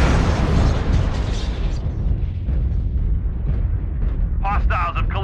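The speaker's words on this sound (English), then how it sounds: "Warning, incoming missile." Explosive blasts in a video game after an incoming-missile warning, loud booming rumble sustained near the start and fading, followed by a short burst of synthetic game voice announcement near the end.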